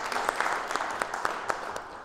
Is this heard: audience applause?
yes